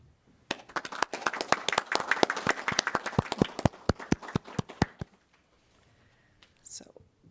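Applause at a city council meeting in Pinole: a small room of people clapping in a loud, uneven burst of separate sharp claps that stops abruptly after about five seconds, followed by quiet and a brief faint sound.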